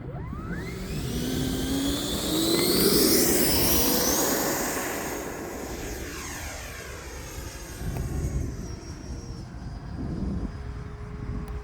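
An E-flite 90mm Viper RC jet with its ducted fan rises in pitch through a loud whooshing takeoff, then recedes and sweeps past while banking, fading and returning with shifting Doppler tones.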